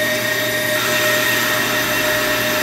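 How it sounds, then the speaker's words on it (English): A running brake lathe with its cutting bit scraping a brake rotor, a loud continuous mechanical whine and hum with a steady grinding hiss throughout. "The cutting head is now hitting the rotor here."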